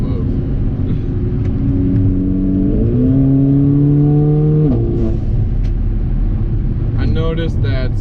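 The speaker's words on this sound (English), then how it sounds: "The race start is freaking insane with the new tune." A Mercedes GLA 45 AMG with a Eurocharged stage 2 tune accelerates hard from a race start, the engine climbing steadily, a brief shift, then rising again with loud cabin drone and some whooshes at the end.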